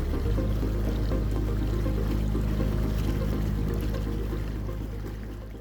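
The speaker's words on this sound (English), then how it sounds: "The lock water is rising" Water pours and churns into Écluse Tankerville lock at Rouen as the filling chamber raises a cruise boat, a dense, steady rushing with a low rumble that tapers slightly toward the end, with no voices.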